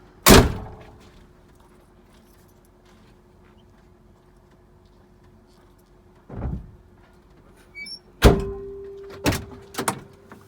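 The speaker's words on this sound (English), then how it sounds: "Shut my door." A truck cab door slams shut with a sharp, close thunk, followed by quieter clunks and a cluster of latching and rattling knocks near the end, with no talking.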